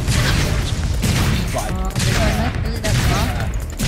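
Rapid shotgun fire blasts in the video game Sanctum, loud dense volleys of gunfire with booming low end over constant game noise, with people talking over it.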